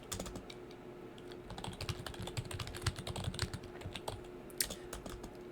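Rapid irregular clicking of computer keyboard keys being typed on, soft and close, with a faint steady hum underneath.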